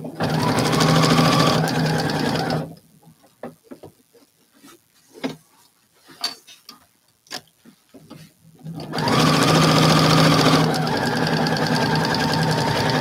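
Close and loud, a sewing machine runs outline stitching on a design, going for about three seconds before stopping. After a stretch of small taps and handling noises, it starts again and runs steadily to the end.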